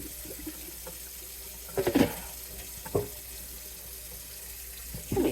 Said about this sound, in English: let me add a little bit of water to the reservoir